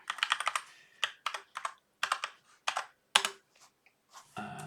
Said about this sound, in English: So in this case it's going to be Toby, and I'll type in a password